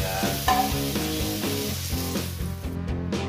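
Mushrooms sauté in a pan for beef stroganoff, a close continuous sizzle broken by rhythmic scraping and stirring strokes, with no voices over it.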